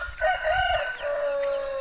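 Free-range chickens and a rooster at a rural Filipino home, a rooster crowing clearly nearby in one drawn-out call over faint low background noise.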